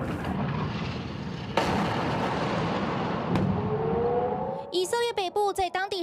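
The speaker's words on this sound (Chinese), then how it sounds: "以色列北部在当地16号晚间轰的一声爆炸，随后就是警报狂响。" A booming explosion strikes at night in northern Israel, followed by a sustained rumble and then a loud, wavering air-raid siren, with a voice briefly audible near the end.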